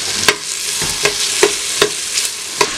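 Potatoes added to sautéed onion in a pan, a close sizzle punctuated by about six regular sharp scrapes or taps of a utensil stirring.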